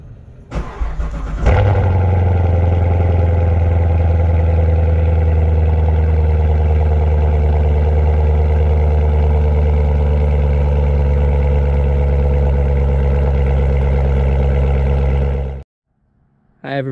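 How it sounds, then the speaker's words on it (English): Corvette engine cold-starting after sitting for a week, a quick crank then catching into a loud, steady, deep-throated idle that holds close and constant before cutting off abruptly. "It's always nice to hear that cold start after it's been sitting for a while"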